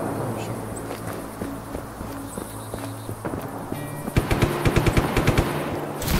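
Gunfire in the video game Just Cause 3: rapid automatic bursts that grow denser and louder toward the end, over a steady engine-like drone of game sound.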